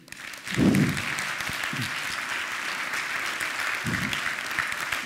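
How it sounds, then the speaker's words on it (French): An audience applauds the keynote speaker at the close of a conference day on digital technology and ethics, sustained clapping from a crowd with a few brief low bursts from the room over it. "Je remercie Véronique, on peut encore l'applaudir."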